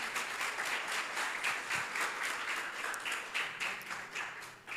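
A church congregation applauding during a sermon, a steady wash of many hands clapping with a loose pulsing rhythm, moderately distant.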